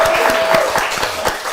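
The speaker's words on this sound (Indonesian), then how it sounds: "tepuk tangan yang meriah" A studio audience applauds, a lively wash of many hands clapping close and fairly loud, with a few cheering voices mixed in throughout.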